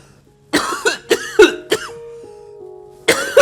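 A series of sharp, hacking coughs close to the listener, several in quick succession, followed by a pause and another cough burst.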